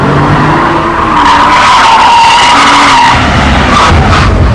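A Porsche 911 996 Turbo tears around the Millbrook Alpine test circuit with tyres squealing and a loud roaring engine, close and sustained, with no talking.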